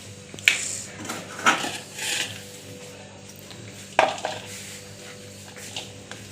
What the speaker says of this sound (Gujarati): હવે બધું એક બાઉલમાં આપણે મિક્સ કરી દઈશું।